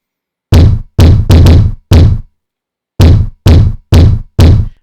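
Punchy kick drum boosted with a Pultec EQP-1A equalizer, struck alone in nine loud, tight hits: a quick burst of five, a short pause, then four evenly spaced thumps.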